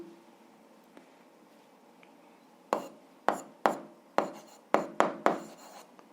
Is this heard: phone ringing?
no